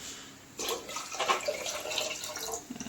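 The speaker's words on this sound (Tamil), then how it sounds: "இன்னும் 2 சொம்பு தண்ணி ஊற்றணும்." Water poured into a cooking pot while making pongal, a steady splashing gush starting after a brief quiet moment and running unevenly to the end, close and fairly soft.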